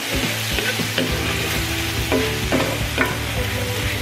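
Garlic, mushrooms, butter and flour sizzle in a pan while being stirred, a constant close frying hiss punctuated by regular scraping strokes of the utensil, no talk.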